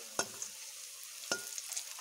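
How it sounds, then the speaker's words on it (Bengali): Night jasmine leaf pakoras fry in oil until reddish, a close, steady sizzle broken by two sharp taps of a utensil against the pan, with no voices. "অপর পিঠও আমি লাল করে এইভাবে ভেজে নেব।"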